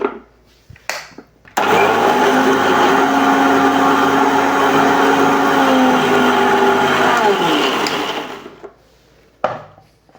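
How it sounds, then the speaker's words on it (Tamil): A mixer grinder blends grated potato and carrot, starting abruptly with a loud, steady whirring roar that holds for several seconds, wavers slightly, then winds down, with brief clunks before and after. "இதை அப்படியே நம்ம வந்து அரைச்சி எடுக்கிறோம்"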